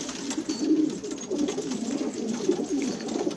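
Pigeons in a Syrian loft cooing, several soft, low rolling coos repeating close by over a steady background hum.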